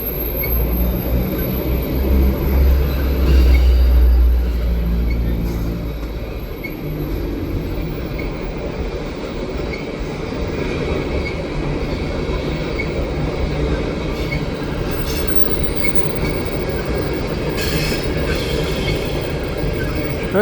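A CN freight train hauling GATX gas tank cars rolls past steadily, a continuous rumble of wheels with faint rhythmic clacking and occasional high wheel squeal, heard from trackside throughout.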